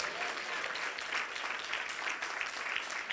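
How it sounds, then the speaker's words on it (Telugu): A church congregation at a Telugu sermon claps in a steady, dense round of applause that holds at an even, fairly soft level throughout, with no voices on top. "కొట్టడమ్మ చప్పట్లో."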